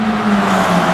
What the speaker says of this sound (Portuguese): O que vocês estão ouvindo aí é o treino da Fórmula 4